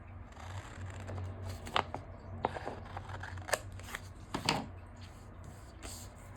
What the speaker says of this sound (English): Go down here, and then I can trim it off.